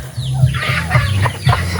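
Farm chickens cluck close by in repeated short, throaty bursts, several birds overlapping in an uneven rhythm with a faint rooster-like call mixed in.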